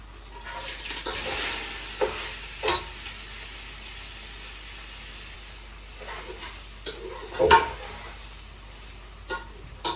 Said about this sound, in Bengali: চালটা সুন্দর করে ভেজে নেই